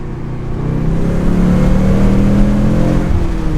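A 2018 Ford Mustang with the 4-cylinder turbo EcoBoost engine accelerating, its steady low engine drone rising slightly and holding loud and close throughout, with no talking.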